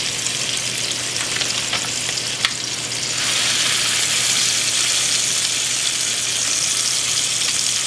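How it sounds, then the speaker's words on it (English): Bacon-wrapped filet mignon sears in hot oil and butter in a cast iron pan, a steady close sizzle that swells louder and fuller partway through, with occasional faint stirring ticks and no talking. "To start off with our fillets, since we've got bacon on them, we're going to actually start searing them on the sides."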